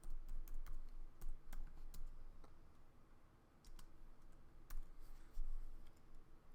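Typing on a computer keyboard produces scattered quick key clicks in short bursts with brief pauses, close and fairly quiet, with no voice.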